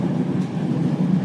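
Czech Intercity Plus passenger train picking up speed, a steady loud rumble of wheels and carriage running throughout without talk.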